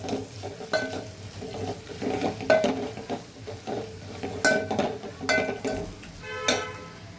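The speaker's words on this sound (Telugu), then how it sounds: "ఇప్పుడు కరివేపాకు వేస్తున్నా." Curry leaves go into hot oil for tempering ulavacharu, horse gram soup, giving a lively close sizzle mixed with stirring scrapes and metal pan clinks.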